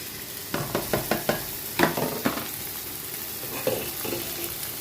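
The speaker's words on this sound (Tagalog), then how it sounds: "Ilagay na natin yung itlog" An egg goes into a hot pan where shallots are frying, setting off a steady close sizzle broken by a quick run of sharp clicks and scrapes from a spatula.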